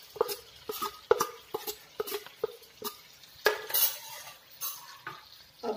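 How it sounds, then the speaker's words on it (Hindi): A spatula scrapes and knocks through matar halwa with milk and roasted dry fruits in a pan, giving a steady rhythm of close stirring strokes over a soft, low sizzle. "ठीक होने तक या हमारा हलवा बनने तक अच्छी तरीके से भूनना है"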